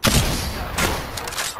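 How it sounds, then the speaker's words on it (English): Gunfire in the video game Apex Legends, a dense burst of rapid shots and booms that fills the short stretch loudly from start to finish. "Opening fire. Getting shot."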